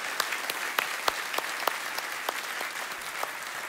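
An audience claps in steady, dense applause at a Christmas Eve show, a broad even patter of many hands with a few sharper individual claps standing out, no voices over it.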